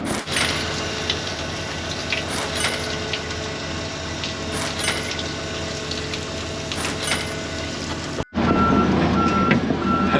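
A backhoe's reversing alarm beeps in a steady repeating pattern over a continuous diesel engine rumble during land clearing, with the engine noise shifting abruptly near the end.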